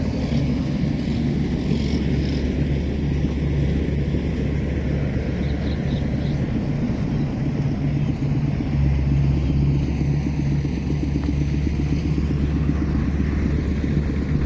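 An engine-driven pump draws water out of a flooded rice field, giving a loud, close, steady engine rumble that drones without a break and is heard alone.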